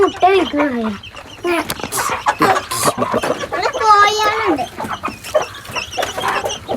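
Several chickens clucking and squawking close by, busy overlapping calls with a voice speaking among them.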